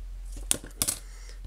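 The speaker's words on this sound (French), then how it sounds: "Donc on va couper un petit peu son fil." Two short, close snips of small scissors cutting thread during a scrapbooking craft session, each a brief sharp click against quiet background hum.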